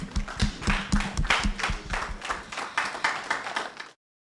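A few people clapping for a participant at the close of a breakout session, close, irregular hand claps with a voice murmuring underneath, stopping abruptly after about four seconds.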